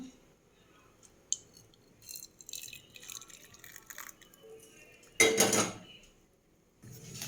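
Freshly caramelized sugar is poured into a pudding dish, with a few light clinks and taps of the dish being handled, then a short, louder scraping pour burst and another bit of handling at the end; no one talks.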